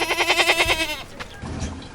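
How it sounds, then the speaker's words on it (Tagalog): A pet goat gives a loud, close, quavering bleat lasting almost a second, followed by quieter rustling and low background noise on a farm in Alaminos City, Pangasinan. "Tulad ng alagang kambing at baka ni Oscar."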